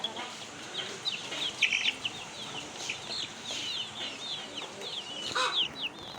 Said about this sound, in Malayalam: കോഴിക്കുട്ടി.